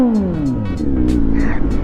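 A Kawasaki Z900 motorcycle engine revving up close, its loud growl sweeping down in pitch and then settling into a rough, throbbing rumble.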